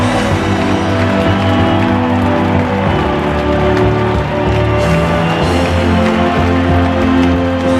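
Crowd cheering at the end of World War I in border areas, a dense continuous roar of many voices with applause-like texture, steady and loud throughout with no single voice standing out.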